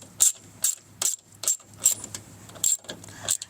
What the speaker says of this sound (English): Now we're going to take our 10mm socket with our 4mm Allen.